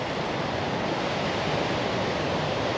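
Ocean surf rolls steadily along the coastline of a gully, a loud, continuous wash of broadband noise with no voices.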